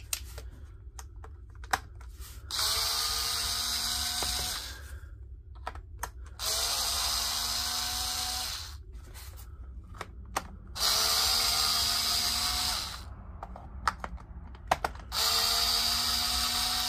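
A cordless drill driver unscrewing screws from a Milwaukee M18 battery pack, four bursts of whirring motor each a couple of seconds long with rising pitch, separated by quiet gaps with small clicks and handling taps, close up.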